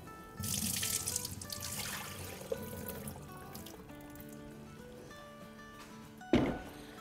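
Water used to wash lentils for street-style haleem is poured out into a kitchen sink in a close, rushing splash that gradually fades to a trickle. A sharp thunk lands near the end.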